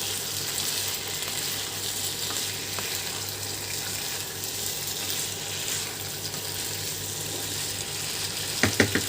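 Potatoes with cumin frying in a pan make a continuous, even sizzle at moderate loudness, with a couple of sharp clinks of a utensil near the end.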